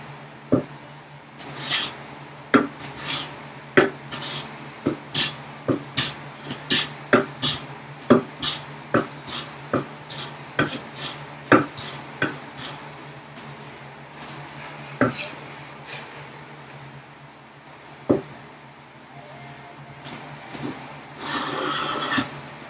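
A hand plane takes full-length wood shavings on workbench vise chops, producing a long series of sharp rasping strokes in a steady rhythm, close and loud, slowing toward the end.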